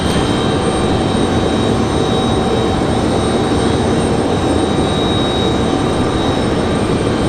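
A Delta airliner departing Raleigh-Durham International for Salt Lake City gives a loud, steady broadband jet engine roar that fills the whole stretch without break.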